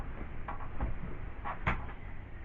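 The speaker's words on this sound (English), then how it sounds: "I'm going to put these into the bottom drawer" A drawer in a bedroom closet slides open and shut, giving a few soft scraping thuds and knocks close by, with no talk over them.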